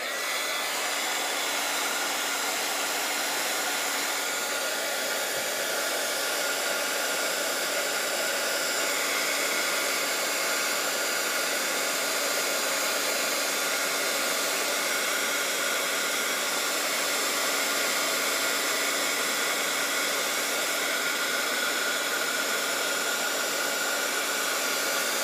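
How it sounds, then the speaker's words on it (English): A heat gun blows steadily while melting a layer of embossing powder for a cloisonné-style piece, a constant broadband whoosh that stays loud and unbroken from start to finish with no talk over it. "This is our last layer, so let's heat emboss this"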